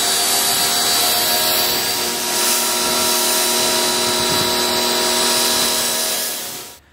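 A high-pressure water spray rinses a car's paint during a mobile detail wash, a loud, continuous close hiss with a faint steady tone that cuts off at the end, with no talking.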